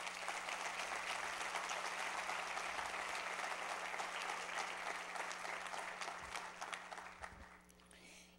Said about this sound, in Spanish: Puedes darle un aplauso a Jesús.